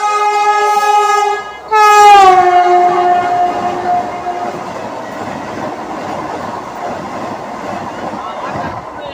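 A train horn blares loudly, then an express train, the Coimbatore Vande Bharat, rushes past close by with a sustained roaring rumble and rattle that slowly fades.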